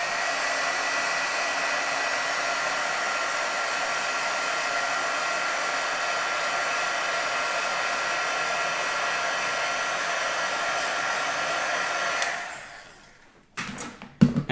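A handheld heat or hair dryer blows continuously for about twelve seconds while drying ink on a handmade card, a steady close whooshing hum that winds down and stops, followed by a few brief clicks and handling knocks.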